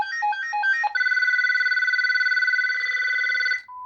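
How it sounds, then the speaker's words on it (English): Electronic ringtone from a GE 28214KE2-A telephone: a quick burst of stepped chirping tones, then a long warbling trill that rings steadily for a few seconds before cutting off, close and clear with no talk. "you can even set a ringtone on it too"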